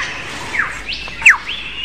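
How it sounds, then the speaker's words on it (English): A male bird sings a display song to attract a female, a few quick descending whistled chirps, clear and close with no other sounds. "That wonderful performance is only one example of the extent to which male birds will go"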